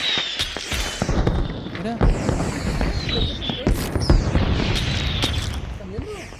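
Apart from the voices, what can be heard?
fireworks rockets exploding in the video game Hunt Showdown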